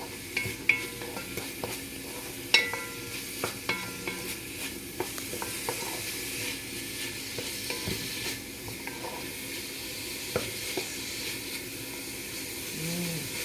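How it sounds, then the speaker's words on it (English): Noodles stir-fried in a pan with dark soy sauce, giving a low continuous sizzle and hiss with scattered clinks and scrapes of a utensil against the pan, fairly quiet and without speech. "You just stir fry it for about a minute or two"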